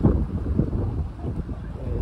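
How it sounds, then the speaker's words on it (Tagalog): Strong, steady wind on Tung Ping Chau island buffets the microphone with a constant low rumble, gusting slightly but never letting up. "Dire-diretso, relentless yung hangin."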